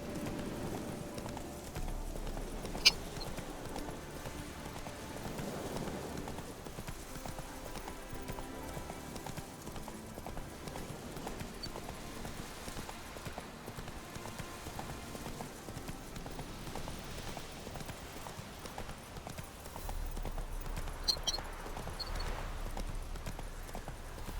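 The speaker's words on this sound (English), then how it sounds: "No entiendo por qué no sprinta nuestro caballo." A horse in The Witcher 3 video game moving at a steady canter, with a continuous rhythmic clip-clop of hooves under a low game ambience that runs the whole way through, without voices.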